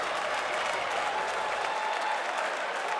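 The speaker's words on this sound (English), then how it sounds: "Is the crowd cheering or booing? I can't tell. There's cheering." Crowd at the Summer Game Fest live showcase clapping and cheering, a dense steady wash of applause at moderate distance that continues without a break.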